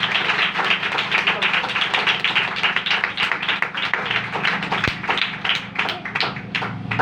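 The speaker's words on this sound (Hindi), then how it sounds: "तालियां" Loud, sustained applause from a church congregation, dense clapping running steadily throughout with a low hum beneath.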